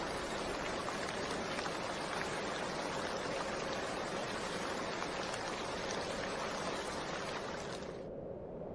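Steady heavy rain at night near Lake Baikal, a dense continuous hiss of drops pattering on surfaces that holds even and close for several seconds before cutting off abruptly at the end.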